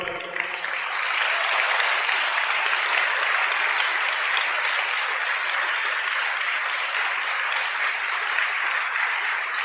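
A church congregation at a Sunday service claps loudly and continuously, a thick, steady wash of applause that holds at full strength for the whole stretch.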